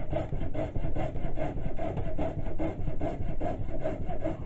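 A hand saw cuts through a wooden hammer handle in steady back-and-forth strokes, roughly two per second, rasping and close with no talk.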